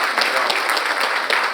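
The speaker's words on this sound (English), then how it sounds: "Big round of applause." Dense applause from a large audience at a summit opening general session, a continuous loud wash of clapping with no talking.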